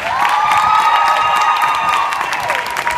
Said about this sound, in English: Please keep the award, the applause going for our 2018 award winners.